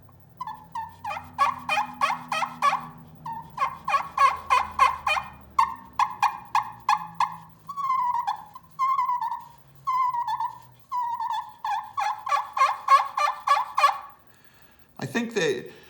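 Soft, nasal yelps from a slate turkey call, played in a long series of quick, evenly spaced notes with short pauses between runs, mimicking a feeding hen scratching through leaves; close and fairly quiet, with no talking.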